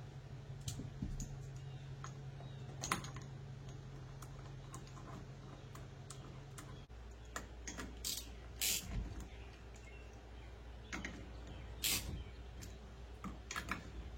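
A wrench tightens three bolts on a mechanical assembly, producing a long run of small, close clicks and ticks at an uneven pace against a quiet background hum.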